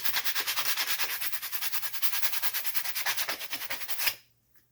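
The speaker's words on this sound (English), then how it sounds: "take some sandpaper, real nice," Coarse sandpaper rubs back and forth on a surface, a close, rhythmic scratchy rasp of quick even strokes that stops abruptly near the end.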